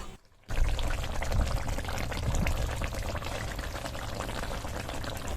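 A sweetened fish curry gravy simmers and bubbles in a pan, a dense, steady hiss and burble heard up close after a brief quieter moment at the start, with no talk.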